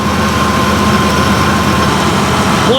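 A high-mileage Vortec engine with 206,000 miles, leaking and burning a little oil, idles steadily and close by with a low, even rumble and a faint whine, alone with no talk.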